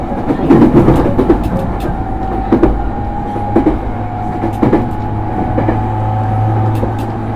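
A JR East E231 series commuter train runs on the Tokaido Line toward Atami, heard from inside as a steady rolling rumble with rhythmic wheel clicks over rail joints and a faint motor hum.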